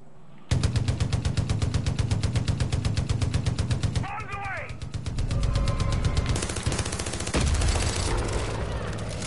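Light machine gun fire in the video game Far Cry 5, a long rapid burst of regular shots, then a whistling effect and more gunfire with other game sounds.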